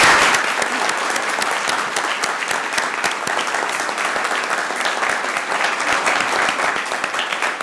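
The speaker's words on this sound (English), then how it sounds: "Give them another round of applause." An audience at a city council meeting in Columbus, Georgia applauds loudly and continuously, a dense, even roar of many hands clapping close by from start to finish.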